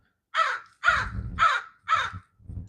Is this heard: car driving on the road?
no